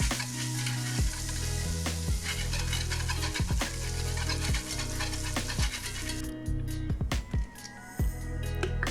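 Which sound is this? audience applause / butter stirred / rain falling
butter stirred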